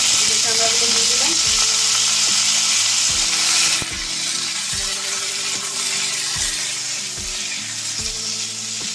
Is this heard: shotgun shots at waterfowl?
no